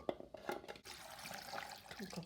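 Water poured into a container while making beetroot juice with carrot in a home kitchen, a steady close splashing stream that runs continuously after a few brief clatters at the start.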